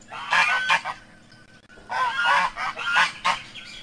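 An enraged goose honks loudly in a played recording: a burst of harsh calls, a brief pause, then a second, longer volley of agitated honks.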